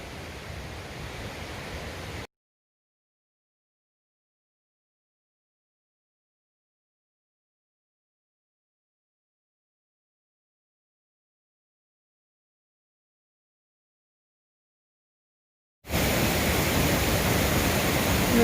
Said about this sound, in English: I'm sure I'm hard to hear because of the rushing water